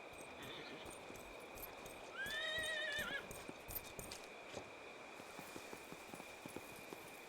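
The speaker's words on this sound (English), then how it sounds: "let's get on a horse" In the game Expeditions: Rome, a horse gives a clear, fairly close whinny of about a second, set among a steady clip-clop of hooves over a constant background hum.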